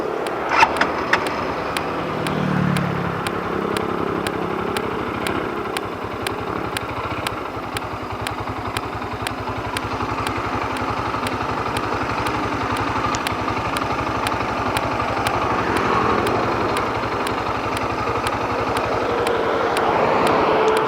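A motorcycle with a broken throttle cable runs at a steady idle for about twenty seconds, a low continuous engine drone with faint ticking and a few brief knocks near the start.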